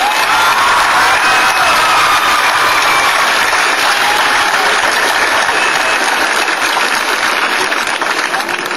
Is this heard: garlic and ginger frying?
no